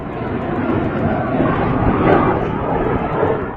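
A jet aircraft flies past with a loud, broad roar that swells slightly and holds steady, close and unbroken, with no speech.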